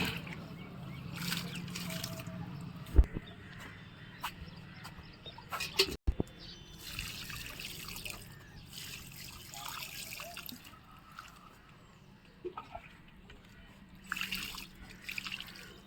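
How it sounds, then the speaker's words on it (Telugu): Water trickles and drips faintly as plants in a terrace garden are watered, with soft splashes, occasional clunks and distant birds in a quiet outdoor setting. "వేసుకున్న మొక్కలన్నిటికీ కూడా వాటర్ పోద్దాం."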